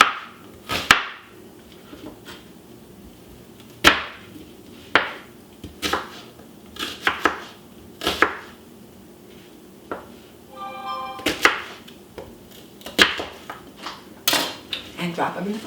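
A knife roughly chopping an onion on a cutting board while making cornbread dressing; sharp, irregular knocks land one after another against the board, with a brief clatter partway through and no talking.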